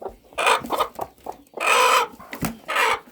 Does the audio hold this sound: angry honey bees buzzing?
no